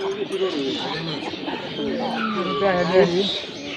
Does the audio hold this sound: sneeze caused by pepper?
no